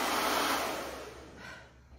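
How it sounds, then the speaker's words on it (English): Steady broadband whooshing of a hair dryer blowing close by, with a thin high whine, gradually easing slightly toward the end. "I have my regular hair dryer"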